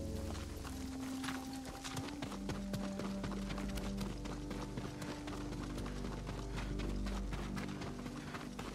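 Horse hooves galloping at a steady pace in Ghost of Tsushima, a dense run of rapid clip-clop beats carried over a low rumbling game music bed, with no talk.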